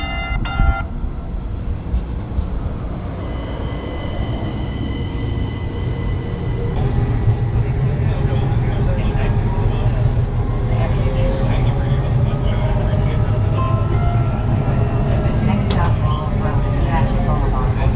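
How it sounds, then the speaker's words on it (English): Inside the Tempe streetcar while it runs through downtown, a steady low rolling rumble and hum builds as the car gets moving, with faint electronic chime tones early on and people talking quietly in the background. "we're gonna go on an aimless ride on the streetcar"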